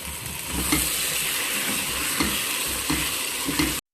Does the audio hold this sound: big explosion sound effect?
no